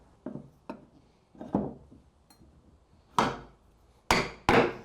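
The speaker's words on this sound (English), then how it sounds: "I can take a couple holdfasts, clamp it to the face of this" Holdfasts are set to clamp a board on a traditional workbench with sharp wooden knocks: several light taps, then three louder, crisp strikes near the end, close and alone.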